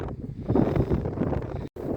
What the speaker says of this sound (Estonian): Ja tuul puhub.